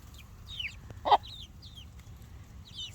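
Backyard chickens, including a Wyandotte, make soft, scattered clucks and chirpy calls, with one louder, sharper cluck near the middle against a quiet outdoor background.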